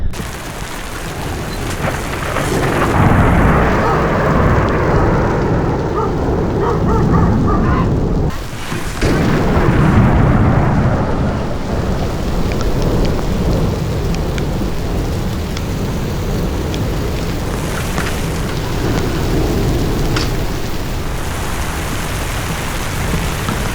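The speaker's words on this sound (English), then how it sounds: "There's been a few storms coming through all day, but this is by far the worst" Heavy thunderstorm with a dense, steady roar of pouring rain and deep rolling thunder, loud and close throughout, with a brief dip in the downpour partway through.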